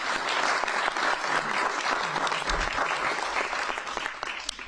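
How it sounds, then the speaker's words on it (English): An audience at a press conference on averting city layoffs applauds, with sustained, dense clapping that stays loud and even throughout. "we're going to give him another round of applause."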